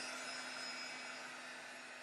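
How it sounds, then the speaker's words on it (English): A heat gun blowing to dry watercolor paint, a constant whooshing roar with a steady motor whine, close and unchanging for the whole span. "This is a heat gun."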